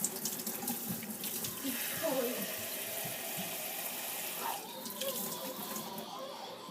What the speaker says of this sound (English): we're just going to take warm tap water, not hot, just warm tap water.